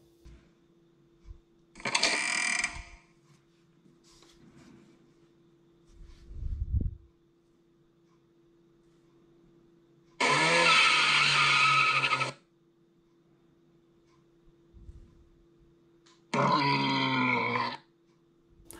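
A small coding robot plays short synthesized gorilla-like roars through its speaker, three separate bursts of a couple of seconds each with quiet gaps between, over a faint steady hum.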